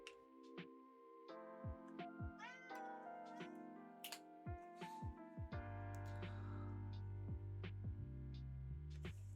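A cat in the video game Supermarket Chaos meows again and again, a steady run of drawn-out, pitch-bending cries over a low background hum for several seconds.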